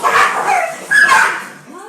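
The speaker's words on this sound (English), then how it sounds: "Sorry, my dogs are saying hello." Pet dogs in a home kitchen give a couple of close, loud barks mixed with high whimpering yips, short bursts filling the moment with no talk over them.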